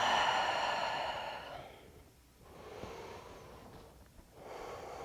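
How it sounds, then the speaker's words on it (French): Slow, audible breathing during a yoga session: a long, airy inhale-exhale at the start, then softer breaths after a pause, close to the microphone with no talking. "Inspire. Expire."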